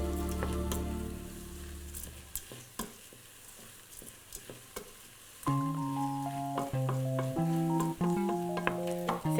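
A spoon stirs risotto with onion and porcini mushrooms in a pan, with soft scraping and a steady close sizzle and bubbling that runs throughout, alone.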